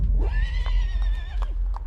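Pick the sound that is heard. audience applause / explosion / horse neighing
horse neighing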